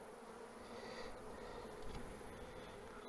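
Honeybees buzz in a dense, steady swarm drone as they are shaken off a hive frame while moving new queens into queenless nucs, a faint continuous hum without talking.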